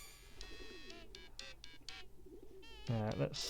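Birds cooing in the Hiveswap video game, a few soft repeated coos in the background while someone talks over them.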